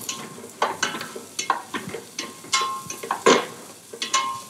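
Vegetables cooking in a pan with a knob of butter, sizzling softly under a steady series of sharp scraping, stirring strokes, close and fairly loud, with no talking.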